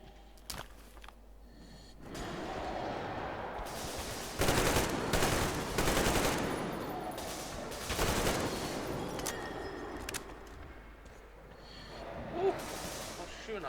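Gunfire in the video game Metro Exodus, repeated bursts of shooting and heavy impacts swelling and fading over several seconds, with a voice talking over the action.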